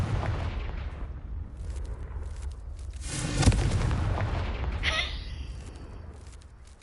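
A fire spell explodes in a magical action video game, a rumbling blast that swells midway, peaks in a deep boom, then trails into a low fading roar.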